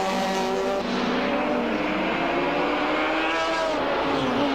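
Touring race cars at the 1983 Hardie Ferodo Bathurst 1000, with Allan Moffat and Peter Brock running as a two-car formation down Conrod Straight, roar past in a loud, steady engine drone with rising and falling pitch.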